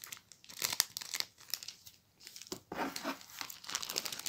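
Plastic packaging bags for soap crinkle and rustle in bursts as they are handled, close and fairly quiet, with short pauses between handfuls and no talking.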